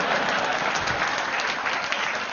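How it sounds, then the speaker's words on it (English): Steady, dense applause from a crowd, sustained at an even level for a couple of seconds with no talking. "Let's give 3 of them a nice round of applause there."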